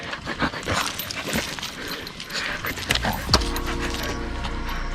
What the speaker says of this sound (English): This dog is crazy.